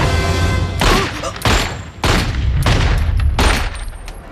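Gunfire in a film scene: a racist's house defending against attackers with shots. Six or seven loud, sharp bursts come in quick, irregular succession, each with a booming tail. There is no talk.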